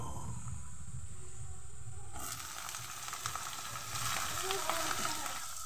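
Diced eggplant with slit green chillies dropped into hot oil in a pan, a loud steady sizzle that jumps up sharply as the pieces hit the oil and keeps crackling close by, with no talk.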